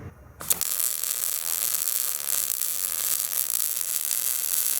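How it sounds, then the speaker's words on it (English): An arc welder strikes with a brief crackle, then settles into a steady, close buzzing hiss as a bead is laid down, unbroken for several seconds. "We're gonna lay some welds down here."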